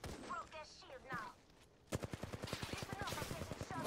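Rapid automatic gunfire in a video game fight, an evenly spaced burst of close shots that starts partway through, after brief voices at the start.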